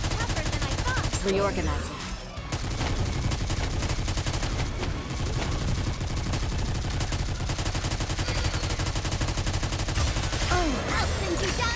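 Sustained rapid gunfire from Laplace in the Nikke: Goddess of Victory shooter game, dense and loud throughout under brief spoken game voice lines.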